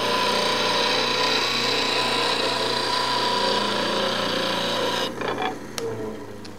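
A lathe roughing gouge sharpened on a grinding wheel with light pressure, a steady loud whirring hum with a high ringing tone that eases off near the end, ending with a few faint clicks.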